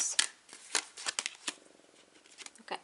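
Oracle cards being shuffled by hand, a quick run of crisp papery riffles and slaps with short pauses between bursts, close and fairly quiet, with no talking.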